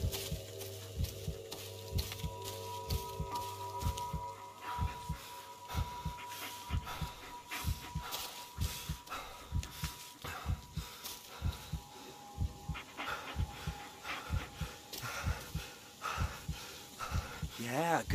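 A dog in the Blair Witch video game pants in a steady rhythmic pattern of quick breaths, close and continuous, with a faint background tone and a brief voice near the end.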